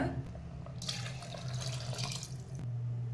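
Water splashes and pours into a cooking pot of rice, a brief hissing stream with a low hum in the background.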